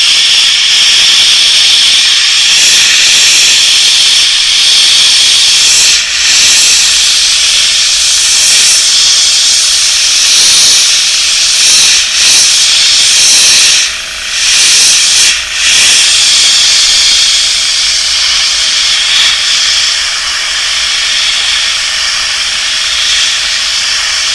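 An airbrush spraying paint on gill plate details at very low air pressure, giving a loud, continuous close-up hiss of air that runs nearly unbroken, with a few brief dips as the trigger eases off.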